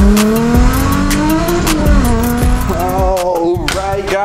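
Race car engine revving, loud and close, with the pitch climbing and dipping through sustained revs and a rough, buzzing exhaust tone.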